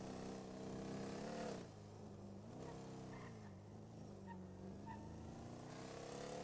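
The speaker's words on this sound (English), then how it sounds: "I do love the noise of this car. Like the roar of a muscle car." A muscle car engine in the GTA roleplay game roars steadily up close, a deep rumbling drone that dips slightly and swells again as the revs shift, with no other sound over it.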